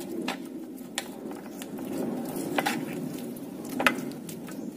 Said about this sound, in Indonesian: Kemudian kita aduk sampai tercampur rata semuanya.